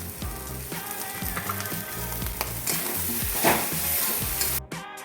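Fish filling with spices sautéed in a pan for a stuffed pointed-gourd snack, a loud continuous sizzle broken by repeated rhythmic scraping strokes of a spatula, close up with no speech.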